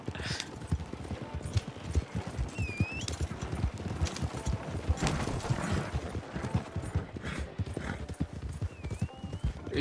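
Steady clip-clop of a slow free horse's hooves in Red Dead Online, continuous and fairly close, with an occasional whinny and faint creaking tack layered under a busy game soundscape.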